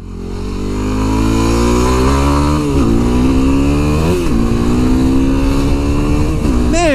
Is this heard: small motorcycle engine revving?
yes